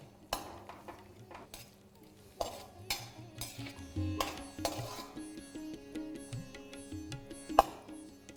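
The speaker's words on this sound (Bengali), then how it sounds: "তারপর ফ্লেমটা লো রেখে এটাকে হালকা একটু নেড়ে চেড়ে ভেজে নেবো।" A few cashew nuts are stirred while frying in ghee in a wok over a low flame, giving quiet scraping and clinking of the utensil amid a soft background hum.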